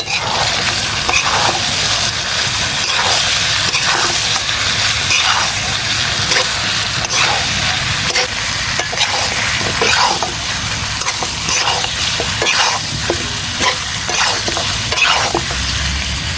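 Chopped tomatoes and whole garlic cloves hit a pan of frying spicy masala pork curry, producing a loud, continuous sizzle with intermittent stirring scrapes throughout.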